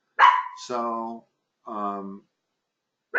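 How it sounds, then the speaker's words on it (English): A dog barks during a thunderstorm, with a few drawn-out, whining barks at moderate distance, one short voice heard at the start. "sorry for the dogs barking."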